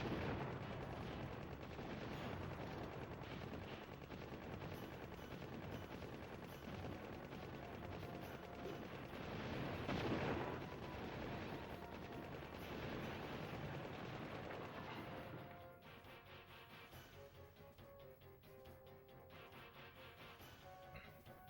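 Heavy gunfire from a big gun in the top-down shooter C: The Contra Adventure, a steady rapid barrage of blasts amid game noise that drops away sharply near the end, leaving quieter background sound.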